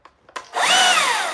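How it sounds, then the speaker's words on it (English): A small electric chainsaw starts after a few clicks and rises into a loud, steady whirring whine that holds close by for about a second. "I bring an electric chainsaw"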